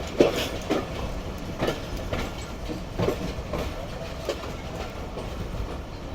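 The Jaffer Express pulls up to platform 4 at a station with a steady rumble and rhythmic clickety-clack of wheels over rail joints, moderately loud and close, with no voices.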